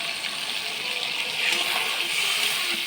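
Water pours from a spice bowl into a pan of chicken cooking in a home kitchen, giving a continuous close hissing splash for a few seconds.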